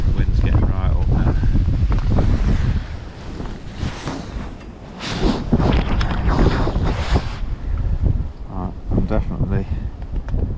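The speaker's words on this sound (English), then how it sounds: "The wind's getting right up now." Strong gusty wind buffeting the microphone at a fishing lake during a match, loud rumbling bursts rising and falling, with someone talking in between.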